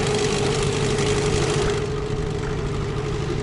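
Mikatsu 9.8 outboard boat motor running on a river, a loud, steady droning engine note with a constant mid-pitched hum, close and alone with no talk.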